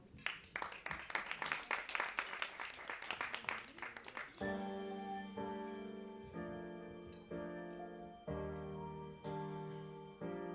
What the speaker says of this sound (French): Émilie Tsoli, qu'on peut applaudir bien sûr.